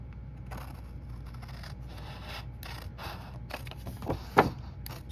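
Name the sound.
cutting off piece of card for custom box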